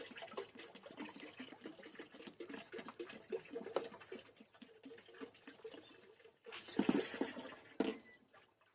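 Leftover water from soaking sprouted grains poured into a container, a steady trickling and splashing run that swells into louder gushes near the end, fairly close and with no talk.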